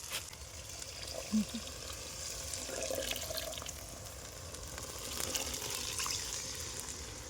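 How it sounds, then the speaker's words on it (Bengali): Coconut milk pours steadily into a pan of oily, spiced prawn masala for daab chingri, making a continuous soft liquid gush with a brief clunk near the start. "এর মধ্যে আমরা এখন নারকেলের দুধ দিয়ে দেবো"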